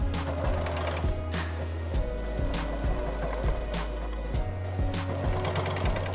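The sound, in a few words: sewing machine sewing elastic onto a bra cup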